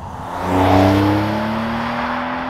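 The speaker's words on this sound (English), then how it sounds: "Even the auto blip function is excellent with this transmission." A Porsche 911 (992) Carrera S with a manual gearbox blips its engine automatically on a downshift: one quick rising rev that swells and then settles into a smooth, sustained drone, heard clearly with no speech.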